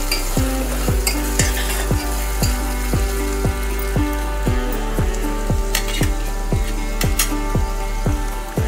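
Vegetables sizzle and are stirred in masala in a pan, with a steady frying hiss and a regular rhythm of spatula scrapes, close and loud with no talking.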